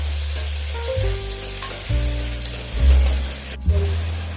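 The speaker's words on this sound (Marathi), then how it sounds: "कांदा लालसर असा आपण भाजून घेणार आहोत।" Chopped onions fry in hot oil with a pinch of salt for mutton biryani, turning reddish. A steady close sizzle runs throughout with periodic stirring scrapes, and no voices.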